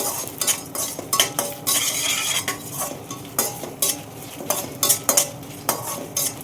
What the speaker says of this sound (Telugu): ఇలా మనకి మంచి బంగారు రంగు వచ్చేంత వరకు మాడిపోకుండా చూసుకుని వేయించుకోవాలి